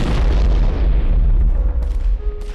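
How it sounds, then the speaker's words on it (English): A nearby explosion in combat, a heavy, loud boom with deep low rumble that fills the whole stretch and slowly decays, with some faint crackling and a thin tone toward the end. "There was an explosion that went off next to us."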